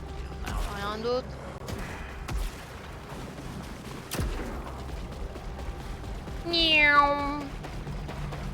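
Cat meowing in the video game Saros, two short mews early and a louder, clearer meow near the end, over low ambient game noise with occasional clicks and a thump.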